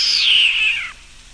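A large cat gives a single sharp, high snarling yowl that slides downward and cuts off after about a second, a short standalone sound effect.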